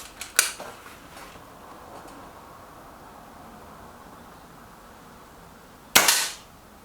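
Two sharp, snappy air rifle shots from a Kral NP02 or Reximex Myth crack out at a target range, one near the start and one near the end, separated by quiet background hiss.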